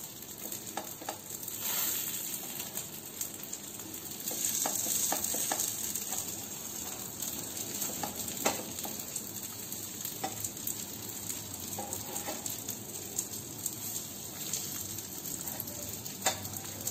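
Sesame corn toast fries in a pan, giving a steady, close sizzle with scattered crackles and pops for the whole stretch.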